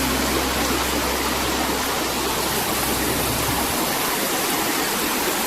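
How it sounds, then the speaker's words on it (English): Water pours steadily over Holm Head Weir on the Rivelin river, a dense, continuous roar of falling water that stays loud and even throughout, with no voices. "So just by there we've got the weir. This is the Holm Head Weir."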